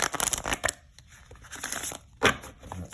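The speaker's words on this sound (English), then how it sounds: "And finish shuffling these cards for you." Rapid papery riffling and flicking of a tarot deck being shuffled, close and moderately loud, with bursts of card noise early on, a quieter stretch, then another sharp riffle near the end.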